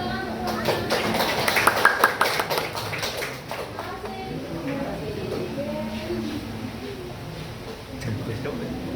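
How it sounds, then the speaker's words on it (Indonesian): Brief burst of clapping from a group of students in a classroom, fading after a few seconds into the chatter and voices of the class. "Tepuk tangan untuk kelompok."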